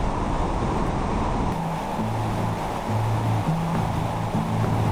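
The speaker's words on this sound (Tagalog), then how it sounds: "Ang agos ng tubig. Rinig na rinig." River water flowing through Calbiga Cave in Samar roars continuously with a dense, even wash of noise and a low rumble underneath, with no voices.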